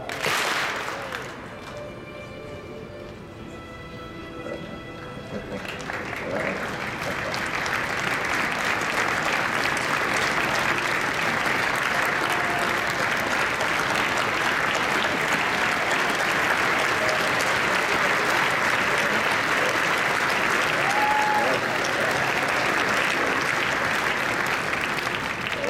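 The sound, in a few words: audience applause at a convention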